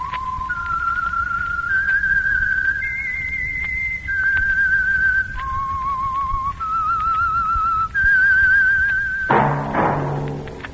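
A clear, tuneful whistled melody with held, slightly wavering notes stepping up and down, ending with a soft thump.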